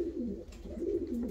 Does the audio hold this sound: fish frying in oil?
no